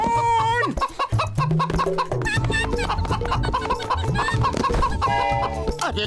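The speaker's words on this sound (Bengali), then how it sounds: "মোটু মুরগি ধরার কোনো আইডিয়া তো দাও।" Animated cartoon chickens cluck and squawk in a busy, loud burst, mixed with lively cartoon effects and music in a Motu Patlu chicken-chasing scene.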